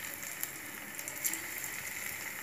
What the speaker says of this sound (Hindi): अब इसको फ्राई कर लेते हैं।